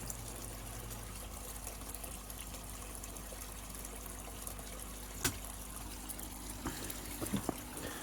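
Pond treatment poured into garden pond water makes a soft, steady trickle and light splashing, faint and continuous with no talking, and a few small knocks near the end.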